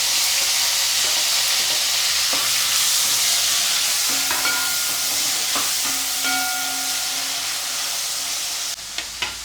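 Chopped tomatoes fry in hot oil in a pan, a steady loud sizzle with occasional stirring scrapes, cutting off sharply near the end.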